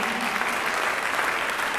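Brief burst of crowd applause at an ACTRA Manitoba awards ceremony, dense steady clapping from an audience filling the room for just under two seconds.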